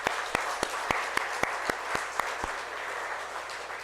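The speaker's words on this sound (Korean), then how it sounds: "우리 서로를 위해서 한번 큰 박수로 격려하시겠습니다." A church congregation at a Sunday service applauds steadily while one person claps loudly in a regular beat, about eight sharp claps standing out before the rest carry on.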